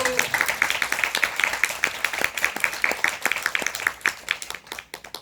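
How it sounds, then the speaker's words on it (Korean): An audience claps together in a brisk, rhythmic round of applause that fades gradually, with a voice faintly present underneath. "한 박수 한번 보내주세요"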